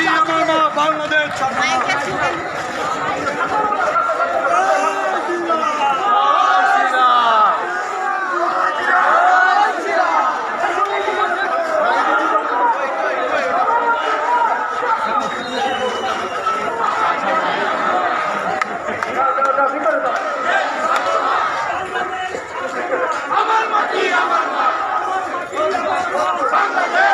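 Protest march in Sirajganj by a Hindu community pressing eight demands, a dense crowd chanting slogans with loud, continuous voices and babble over a steady roar for the whole stretch.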